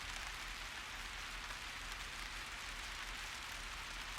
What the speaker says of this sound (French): écoutez le bruit de la pluie